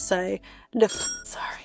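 A doorbell chimes with a bright, ringing tone partway through, heard close by and overlapping with a person talking.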